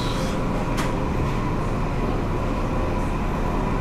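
A train standing at a railway station, heard as a dense, steady rumble of engine and platform noise with a brief sharp hiss near the start.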